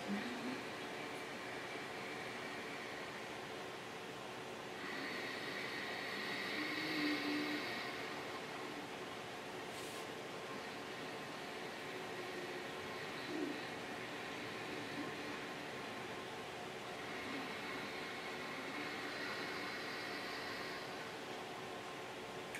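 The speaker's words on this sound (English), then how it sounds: "It's almost like a hissing sound from the back of the throat" A person does Ujjayi breath, the yogic pranayama breathing through a constricted throat. Two slow, soft hissing breaths swell and fade over a quiet background.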